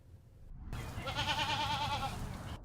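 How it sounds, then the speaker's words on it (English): Goat bleats from a small herd of goats clearing overgrown invasive plants in a Cincinnati park: one long wavering bleat, fairly close, over faint outdoor ambience with no talk. "14 goats are visiting Colerain Park for the next several weeks to maintain some of the overgrown greenery"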